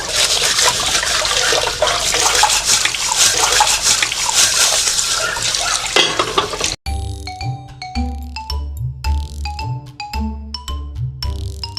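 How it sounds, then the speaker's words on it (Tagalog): Running water washing dishes in a home kitchen, a dense steady broadband rush for about seven seconds that cuts off abruptly, followed by quieter clinks and tonal dish knocks. "Let's wash the dishes."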